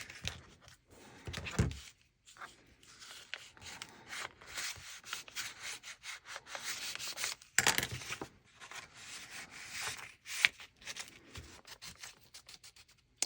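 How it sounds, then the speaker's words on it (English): Paper tag being pushed and worked into a tight pocket on a vintage-style junk journal page, giving close, quiet scraping and rubbing sounds in irregular bursts over several seconds with brief pauses. "These tags are always so hard to get in initially, but eventually it works itself out."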